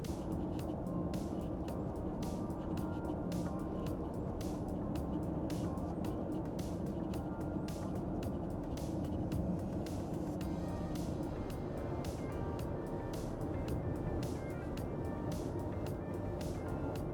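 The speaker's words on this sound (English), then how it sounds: "Now we will measure the noise of two cars at the same road" Inside a Nio ET9 car while driving on the road, a low, steady rumble of road and tire noise holds evenly throughout with a faint, even hiss above it.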